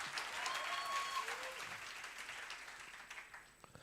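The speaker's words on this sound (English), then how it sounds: "One more time, a round of applause for NetBank." Audience at an entrepreneurship workshop in Atteridgeville applauding a presenter, a quiet, somewhat distant burst of clapping that thins out toward the end, with a few voices mixed in.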